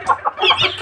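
A female quail gives a few quick, close clucking calls in a short burst.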